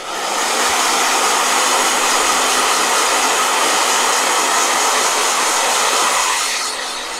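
A handheld blow dryer runs steadily, a loud, continuous whooshing roar with no talking, holding even from start to finish.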